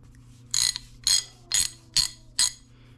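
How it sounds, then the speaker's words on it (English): A 3/4 inch ratchet with a welded-on stud gives five crisp, evenly spaced metallic clicks, close up and loud over a low steady hum. "This is a 3/4 inch ratchet."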